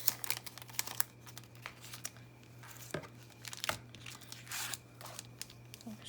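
Masking tape being pulled, torn and handled up close, giving soft crinkles, scattered sharp crackling ticks and brief tearing rasps over a faint steady electrical hum, with no talking.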